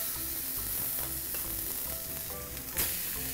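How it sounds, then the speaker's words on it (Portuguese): Contrafilé beef steak sizzling steadily on a hot griddle, a close, continuous frying hiss with small crackles throughout and one brief louder flare near the end. "nós vamos colocar na chapa para ficar um grelhado"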